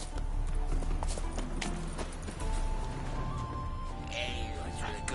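Hooves of a horse galloping in The Witcher 3: Wild Hunt, Hearts of Stone, a fast steady clip-clop rhythm close up, with game speech and ambience layered over it.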